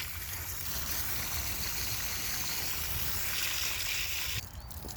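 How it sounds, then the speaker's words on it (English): Running water rinses cleaning solution and old red oil out of a K&N drop-in air filter from a 2015 Subaru WRX, a steady close hiss and splash that holds level for several seconds, then drops off abruptly near the end. "You see it go gray as all that old red oil washes out of there."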